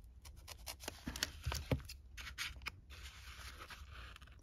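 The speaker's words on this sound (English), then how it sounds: "With your scissors, trying to cut straight." Scissors snip through an old vintage paper envelope in a few short, close cuts with light papery scraping, quiet and without talk.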